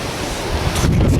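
Strong wind buffets the microphone outdoors during a hike. A loud, rumbling roar with gusty swells grows heavier toward the end, and no voices are heard.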